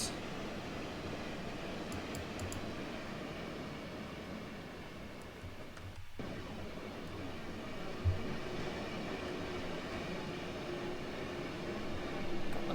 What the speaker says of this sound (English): motor sounds coming in.